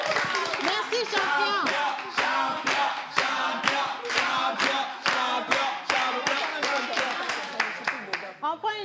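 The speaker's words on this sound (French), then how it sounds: "on va applaudir, il a échoué" An audience claps in quick, rhythmic bursts at a community association event. Voices shout and talk over the applause throughout.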